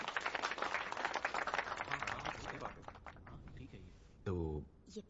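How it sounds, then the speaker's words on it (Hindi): Audience applause welcoming a new society leader in a Seoul residential community, dense clapping filling the first few seconds before thinning out, with a voice speaking near the end. "सभी लोग तालियों से इनका स्वागत कीजिए।"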